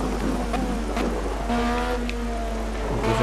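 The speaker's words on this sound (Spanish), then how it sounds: "Madre mía, cómo está lloviendo." Rain falls in the racing video game Project CARS during an LMP1 race, a steady wet hiss that runs alongside the continuous whine of the car's engine, with no talking.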